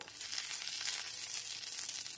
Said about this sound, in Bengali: সমস্ত কড়াইশুঁটির পেস্টটা দেওয়ার পর একটু নাড়াচাড়া করে নিতে হবে।